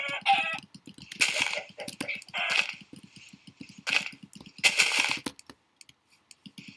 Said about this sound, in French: Attends, je tue une poule.